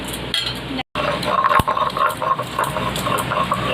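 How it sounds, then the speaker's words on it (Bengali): Cumin being ground on a flat grinding stone (shil) in a home kitchen, with a continuous rough scraping and rubbing and occasional clinks at moderate loudness, and no talking. "দেখো মা ওই যে জিরেটা বেটে নিচ্ছে।"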